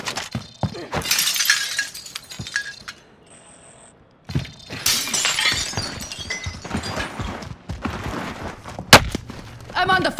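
Call of Duty: Modern Warfare battle royale gunfire cracks out in sharp, loud bursts, close and repeated, with a short quiet gap midway and a heavy blast near the end.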